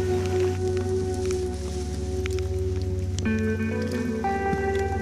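Rain falls on a mountain trail while climbing Mount Sindoro via the Alang Alang Sewu route, a steady close patter of drops under a constant low background hum.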